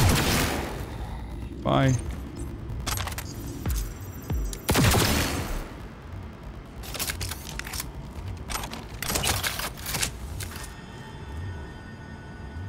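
Gunfire in the video game Cyberpunk comes in several sharp bursts and single shots over a busy game soundtrack, and someone talks between the shots.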